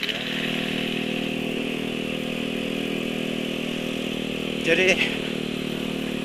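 Noisy motorcycle engine idling with a steady droning hum, running loud and close throughout, while someone speaks briefly near the end.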